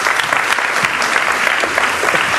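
A Spanish television studio audience applauds a guest sexologist with a loud, continuous burst of clapping that holds for a couple of seconds without talk.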